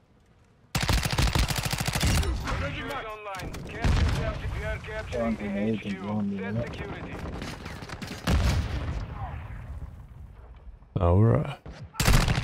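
Chimera (Honey Badger) rifle fire in the video game Modern Warfare 2, loud close bursts of rapid automatic shots repeating in several volleys, with someone talking over and between them.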